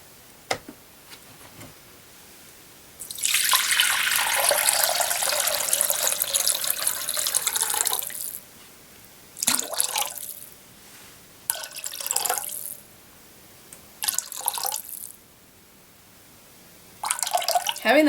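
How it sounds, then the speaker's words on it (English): Water poured into a container on a scale to weigh it out for a soap-making batch, a steady splashing pour followed by several short separate pours, fairly close. "Okay, so we're going to use water,"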